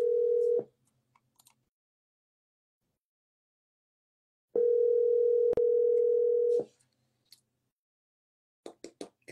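An outgoing telephone call rings back: a steady electronic ring tone sounds for about half a second, pauses for several seconds, then rings again for about two seconds, followed by faint clicks.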